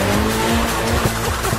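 A Mazda MX5 Miata skids with its tires squealing, a loud, short burst of screeching rubber and engine noise up close, lasting under two seconds.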